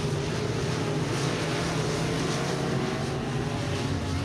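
USRA B-Mod race cars roar off a green flag start at a Friday night dirt track, a loud, steady blend of many engines droning together throughout.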